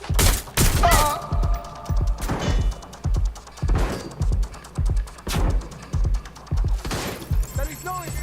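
Bursts of gunfire from the video game Watch Dogs Legion, loud rapid volleys repeating in an uneven rhythm for several seconds, with heavy impacts and game sounds between the shots.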